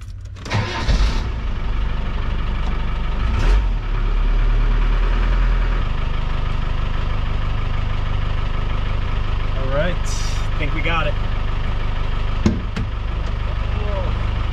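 A Land Rover Defender diesel engine, leaking diesel, cranks and catches, then settles into a loud, steady idle with a rough rumble. Brief voices are heard in the background.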